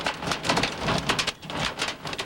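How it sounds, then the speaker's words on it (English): Wind-driven rain and hail batter down in a continuous loud roar with surging gusts during the April 1991 Kansas tornado outbreak, with no voices present. "Through the high winds and the hail, Doug continues eastward on Central"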